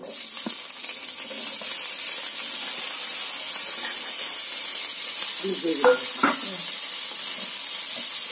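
Pond snails sizzle in hot oil with a broad, steady hiss, close by, broken near the end by a few soft clinks of a utensil against the pan.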